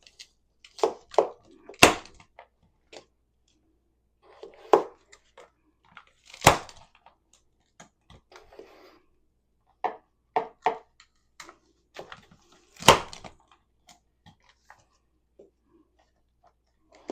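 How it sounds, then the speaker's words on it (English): Garlic being minced in a small hand mincer, with a series of sharp crunching chops and clicks arriving in scattered bursts, close and fairly loud against near silence. "Continue to peel the rest of our garlic and mince it up. Just going to put that right in our little mincer here."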